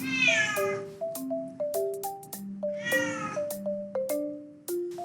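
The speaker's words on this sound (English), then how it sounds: "Hey there, cat." In the video game Minecraft, a cat gives two distinct meows a few seconds apart over a gentle background melody of plucked notes.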